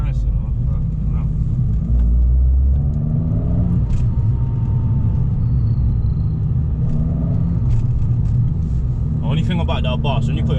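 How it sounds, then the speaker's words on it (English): A BMW's rear exhaust rumbles low and steady from inside the car while driving, a constant deep drone with a brief swell early on and a few faint voices and clicks over it. "the exhaust, I can hear the back pots like it's like boom boom boom boom"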